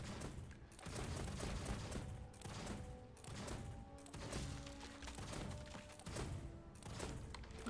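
Rapid bursts of gunfire from guns in Guild Wars 2, blasting at Sons of Svanir and their tents. Repeated loud volleys come in waves with thuds and booms, and no voices are heard.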